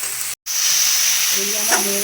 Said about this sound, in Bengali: আলুগুলো দিয়ে আবারও সবগুলো একসাথে ভালো করে নেড়ে চেড়ে নিচ্ছি।